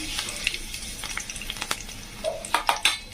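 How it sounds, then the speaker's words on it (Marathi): Curry leaves fry in a little hot oil in a kadhai while filling for masvadi is being made. A soft sizzle runs underneath, with sharp crackles and pops growing louder and more frequent toward the end. "तेल टाकलं मी याच्यात थोडंसं कढईमध्ये. थोडंसं ना मी कढीपत्ता टाकणार आहे."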